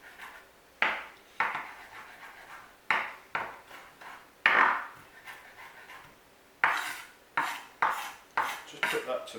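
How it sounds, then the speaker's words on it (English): Parsley being chopped small on a cutting board with a knife, in a series of distinct close knocks in uneven bursts, with short pauses between groups of strokes and no talking. "Chop the parsley up nice and small again."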